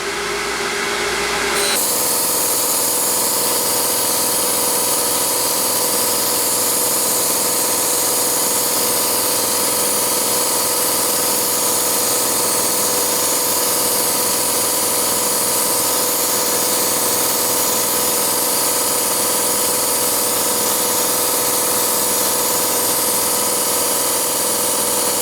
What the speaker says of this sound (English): now it's time to grind the top.